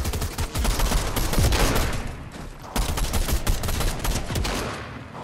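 Rapid bursts of gunfire from a Fortnite Zero Build match, loud and dense, crackling volleys running almost continuously with a short break partway through.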